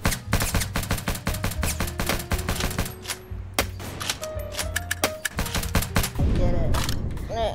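Video game gunfire: a fast, steady run of close automatic shots with sharp regular cracks, later thinning to scattered single shots among other game noises, with a heavier blast near the end.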